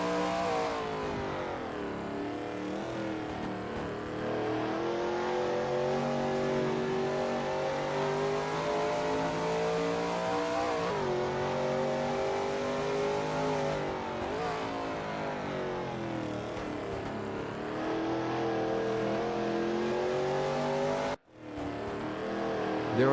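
A Shelby Mustang GT350R race car engine in a racing video game, on the Blackwood track during a qualifying lap, roars steadily at high revs with rising and falling pitch through the gears, loud and continuous, with a brief cut near the end.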